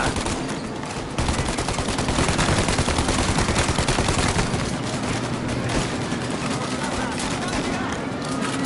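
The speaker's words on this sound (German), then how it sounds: "Knall sie ab, Tom!" Sustained gunfire in the video game Mafia: Definitive Edition, dense rapid shots and bursts running almost continuously, loud and close, with excited voices talking over the shooting.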